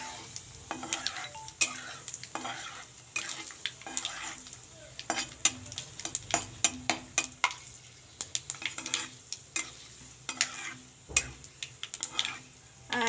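Panch phoron spices sizzle in hot oil while a spoon stirs and scrapes the pan with frequent sharp clinks. The frying hiss is steady and close, with no talking.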